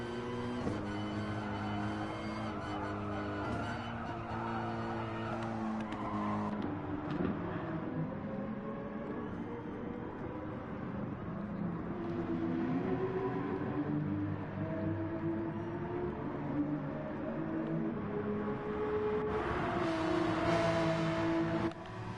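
Porsche race cars in an FIA Manufacturers Series race roar past on track, engines droning and shifting pitch as they pass, a continuous loud mix of cars near and far.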